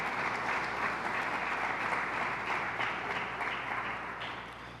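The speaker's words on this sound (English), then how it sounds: "A round of applause for all the community-based organizations." Sustained applause from an audience at a governor's public safety briefing, steady and dense for several seconds before gently tapering toward the end, with no talking over it.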